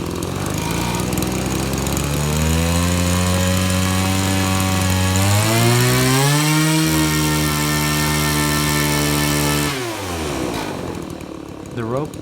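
A 25cc weedeater engine spinning a propeller runs loud and steady, its droning pitch climbing and holding before dropping sharply near the end as it winds down.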